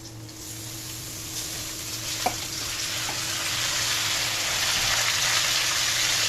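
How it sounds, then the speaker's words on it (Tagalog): Lomi noodles sautéing in a pan, a steady broadband sizzle that swells gradually, with a faint clink of a utensil partway through. "Igigisa na po natin ang ating lomi."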